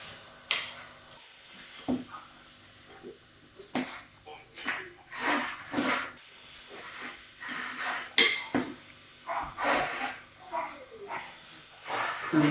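A spoon scrapes and clinks against a bowl while chicken and orzo salad with sun-dried tomatoes and oil is stirred, in irregular close taps and scrapes under intermittent talking.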